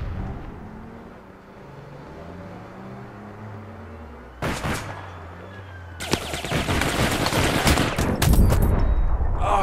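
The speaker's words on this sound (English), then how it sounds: "Somebody's shooting at me from up there." Gunfire in the online game APB Reloaded, sharp bursts of shots breaking out mid-clip and growing denser toward the end, over a low ambient rumble.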